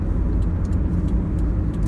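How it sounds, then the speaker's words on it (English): Car turn signal ticking inside a moving car: faint, evenly spaced clicks over a loud, low rumble of engine and road noise, with no voices. "So you're going to hear my turn signal again."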